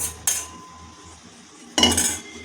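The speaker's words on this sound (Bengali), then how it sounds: "এগুলো আমি মশলার সাথে পটলগুলো আর একটু ভেজে নেব।" Pointed gourd being stirred with spices in a frying pan, with two loud bursts of utensil scraping and clinking against the pan over a low background sizzle.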